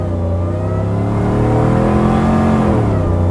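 A supercharged Chevrolet Suburban launches hard off the line, its engine roaring loudly and climbing in pitch throughout, close and continuous with no talk.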